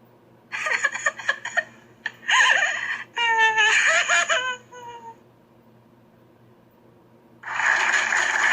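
A recorded crying sound used as a comic-strip onomatopoeia example: a series of whimpering, sobbing bursts with pitched wails, then a pause and another sob at the end.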